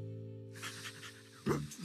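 A cartoon dog pants in quick, breathy bursts at low volume. A short, louder tonal vocal sound cuts in near the end over a faint musical backdrop.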